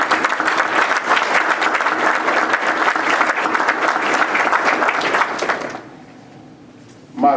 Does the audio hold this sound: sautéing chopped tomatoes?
no